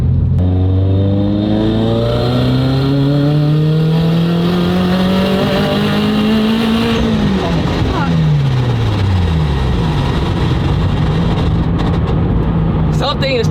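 A turbocharged car engine revs hard, rising in pitch through the gears, then drops and climbs again; loud and close, with a faint voice underneath.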